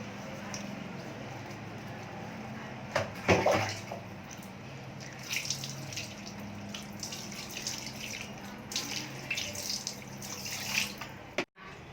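Hands lathered with a bar of soap are rinsed under running tap water, a steady splashing and trickling stream with brief louder sloshes, heard close up.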